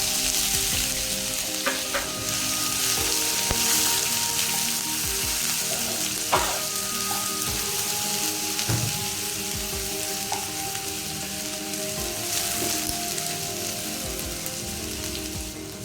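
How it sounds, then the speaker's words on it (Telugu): Ginger garlic paste frying in about five tablespoons of hot oil for a mutton curry, a steady dense sizzle with occasional stirring scrapes throughout, no speech. "ఐదు టేబుల్ స్పూన్ ఆయిల్ వేసుకోవాలి రెండు టేబుల్ స్పూన్లు అల్లం వెల్లుల్లి పేస్ట్ వేసుకొని వేసుకోవాలి"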